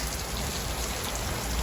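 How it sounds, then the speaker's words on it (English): Thunderstorm downpour whipped by wind over Henderson, Nevada roofs: continuous heavy rainfall hissing and pattering nearby at an even, loud level, with nobody speaking. "Look at the wind just blow that rain."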